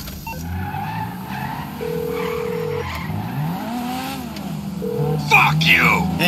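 A car in GTA V skids with squealing tires and a revving engine, sliding pitch sweeps rising and falling over steady road rumble, close and fairly loud, with shouting voices over it.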